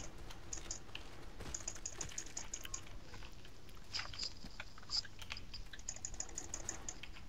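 Faint, rapid clicking from a computer keyboard or mouse comes in quick bursts against a noisy background during play of a World at War custom zombies map.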